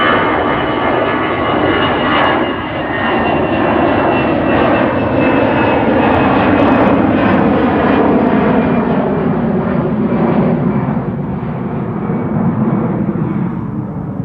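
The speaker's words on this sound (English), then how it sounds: "EasyJet taking off here on" EasyJet jet airliner taking off at Amsterdam Schiphol airport, a loud, sustained engine roar with rushing noise that holds steady throughout, heard from nearby.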